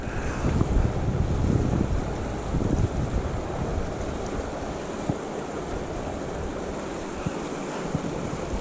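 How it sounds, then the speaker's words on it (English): Cold wind gusting hard across the Truckee River, with a constant low roar and moving water washing nearby. "It's windy and cold."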